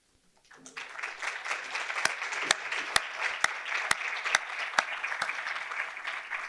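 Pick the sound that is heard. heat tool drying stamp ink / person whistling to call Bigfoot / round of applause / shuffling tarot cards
round of applause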